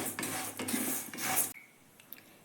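Vermicelli frying in a pan on low flame, heard as repeated scraping and stirring strokes of a utensil against the pan, close and fairly loud, before an abrupt drop to a faint quiet hiss.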